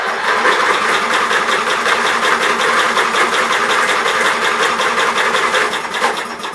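A 16 horsepower cast iron Briggs & Stratton engine cranks and strains to catch, giving a loud, continuous, rapid mechanical clatter close by that eases slightly toward the end.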